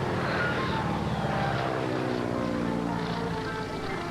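A small training airplane's engine drones steadily in flight, a continuous, fairly loud hum with propeller tones running unbroken throughout, with no voices.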